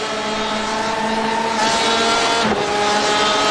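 Porsche GTE race cars at Sebring in iRacing, a loud sustained engine drone with steady harmonic whine, pitch shifting slightly as the cars run close together, no talking.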